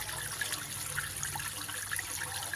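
Rainwater from a house roof flowing down into an underground recharge pipe for a 40-foot borewell, a steady rushing, trickling stream of water, continuous and close with no voices.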